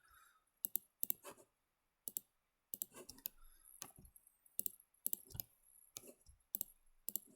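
Computer mouse clicking while selecting edges in Blender: a quick run of sharp, close clicks in irregular bursts, some doubled, with short pauses between groups and no talk.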